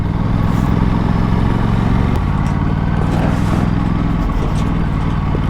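An Aprilia Tuono 457 motorcycle ridden off-road in Himachal Pradesh gives a loud, continuous engine drone with steady low rumble and wind noise, close and unbroken throughout.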